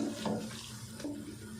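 A little water, under half a cup, poured into a pan of frying cauliflower and potato for aloo gobhi, a steady running splash heard up close and alone for a moment.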